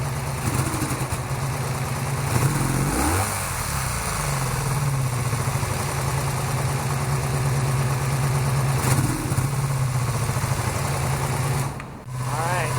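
A multi-cylinder cafe racer motorcycle engine idles steadily and close during carburetor synchronization, a continuous throbbing rumble with a few brief revs and slight fluctuations throughout.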